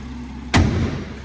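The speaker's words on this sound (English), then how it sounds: "Always best to let the bonnet drop." A single heavy metallic thud as a BMW M140i bonnet drops shut, loud and close, followed by a short ringing decay.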